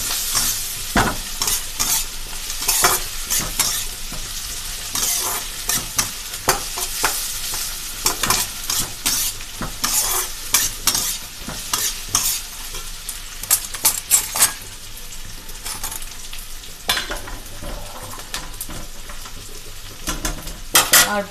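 Chicken pieces added to fried onions and potatoes sizzle and crackle in a pan, with steady frying hiss and frequent clinks and scrapes of a spatula stirring throughout, no voices.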